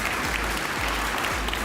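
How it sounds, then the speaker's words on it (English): Audience applause for an award presenter coming forward at a ceremony honoring long-serving awardees, dense steady clapping from a crowd that fills the whole stretch at even loudness. "Can we give her a round of applause as she comes forward,"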